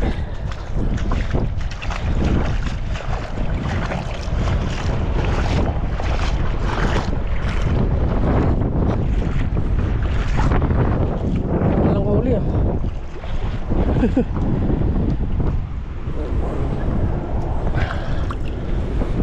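Strong wind buffets the microphone at sea near an island before dawn, a constant roaring rumble throughout, with voices partly audible underneath.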